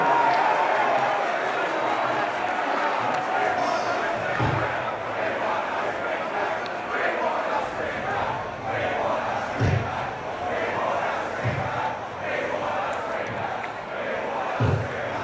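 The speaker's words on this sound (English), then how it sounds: "Hey, let's keep cheering the Socceroos, folks." Australian football fans gather in Sydney to cheer for the Socceroos ahead of Australia v Egypt, producing a continuous loud crowd roar with shouting and scattered whistles. A few dull thumps break through now and then.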